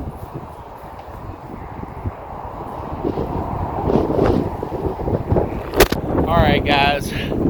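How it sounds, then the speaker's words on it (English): Strong outdoor wind, gusty enough to topple a tripod, roars as a steady low rumble buffeting the microphone, swelling in gusts with a brief sharp knock partway through. "Wind's blown my tripod over and broken it"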